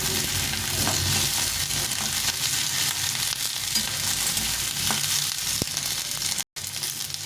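Steady, loud sizzling of capsicum frying in a hot pan, with occasional stirring scrapes and a brief dropout near the end.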